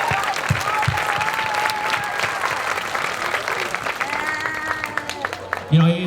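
A crowd claps steadily for city staff at a Light It Up Blue 2016 evening event. The applause is loud and sustained, with scattered cheers mixed in.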